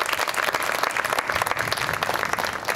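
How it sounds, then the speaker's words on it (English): Audience applause in a hall at a community court ribbon-cutting ceremony, steady and dense clapping sustained throughout with no break. "Would you mind please giving her a great round of applause?"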